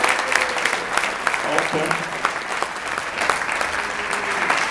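An indoor audience gives a performer a sustained round of dense, loud applause. A voice speaks briefly within the clapping.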